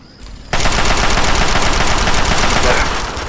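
Enemies in Fallout 3 let loose a dense, continuous machine-gun barrage that starts abruptly and stays loud and rapid throughout, with no talk over it.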